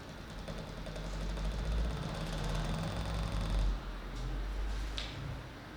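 Feiyu Tech SCORP-C handheld camera gimbal's pan motor runs through calibration, giving a faint, steady low mechanical hum and whir that holds for several seconds before changing slightly near the end.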